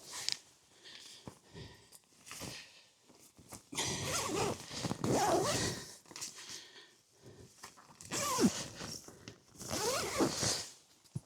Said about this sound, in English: Zip up these windows.